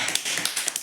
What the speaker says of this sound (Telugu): Right, claps.